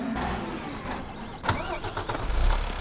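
A truck engine in the Farm Sim video game starts up and runs at a mid pitch, rough and fairly close, with a louder revving surge near the end and no talk over it.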